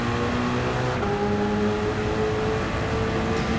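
A Toyota GT-One race car in Gran Turismo drones at high speed on a straight, a steady loud engine tone holding near constant pitch with a slight shift partway through.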